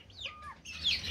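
Chicken clucking up close, a few short rising and falling calls followed by a brighter squawk, brief and clear with no speech.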